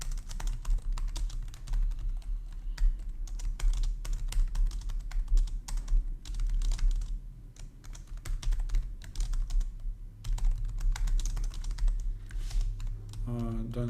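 Steady, close typing on a computer keyboard during a programming contest, with continuous key clatter and brief lulls running throughout, no speech over it.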